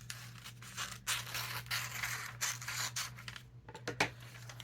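Scissors cut across the top of a magazine page with a steady, close papery rasp and rustle, broken by short pauses, with no talking.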